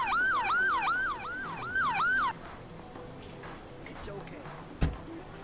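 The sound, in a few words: ambulance siren approaching, from video game Emergency 4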